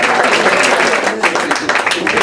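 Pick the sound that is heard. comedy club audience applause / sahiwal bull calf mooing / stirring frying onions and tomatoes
comedy club audience applause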